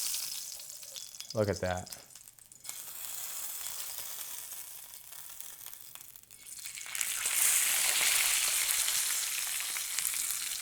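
Steak sears in a hot pan, a steady broadband sizzle that swells louder in the latter half, with a short spoken remark near the start.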